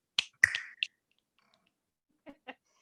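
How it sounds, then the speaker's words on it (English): Finger snaps in an early-years circle-time song, a few sharp clicks close to the mic: a cluster of three quick snaps at the start, then a pause and two softer snaps spaced apart. "If you're happy and you know it, snap your fingers."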